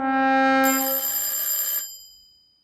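A telephone rings with a bright electronic tone, one sustained burst of roughly a second and a half that cuts off and leaves a fading ring-out, loud and alone.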